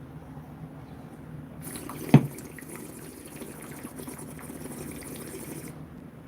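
A sharp click of a lighter, then a few seconds of low gurgling bubbling water from a bong, with a faint hiss over it, recorded at close range.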